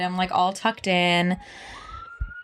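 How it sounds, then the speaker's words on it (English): A siren rises in pitch and then holds a steady wail, fairly faint, heard right after a short bit of speech. "Siren."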